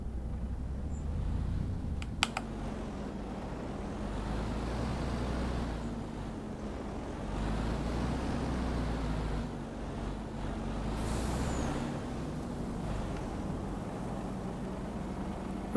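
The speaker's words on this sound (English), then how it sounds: "Right, so that's our first Mercedes truck." Mercedes truck engine in the video game Farming Simulator 25, a low, steady rumble with a faint hum swelling and easing over time, plus a couple of brief clicks, moderately loud with no talk.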